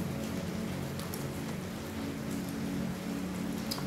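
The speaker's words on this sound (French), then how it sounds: "Il pleut" Rain falls steadily outdoors, a continuous soft hiss of drops with a low background hum, unbroken and with no voices throughout.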